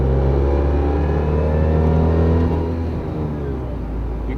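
Gomecsys variable compression ratio engine accelerating, a loud, sustained running note climbing in pitch as it revs up, heard close and alone over a few seconds.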